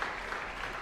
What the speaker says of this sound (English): Yes, we're hearing more and more applause around here.